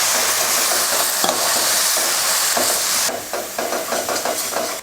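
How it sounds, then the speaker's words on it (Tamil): Masala sautés in oil in a pan for fish curry, a loud, hissing sizzle with quick stirring scrapes that grow choppier and more rhythmic toward the end, with no talk. "மசால் போட்டு எண்ணெயில் இந்த மாதிரி நல்லா வதக்கிட்டு"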